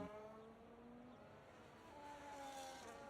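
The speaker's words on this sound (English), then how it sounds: "we hear more and more Ferrari engines hammer it down the main straight here in Miami" Simulated Ferrari Formula 1 engines in the F1 25 game scream down the Miami main straight, a faint, steady, high-revving whine with rising pitch and a brief surge near the end.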